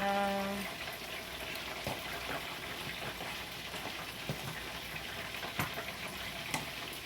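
Brussels sprouts sauté in a pan on a stove with a steady close sizzle and occasional clatters of stirring, with no one talking.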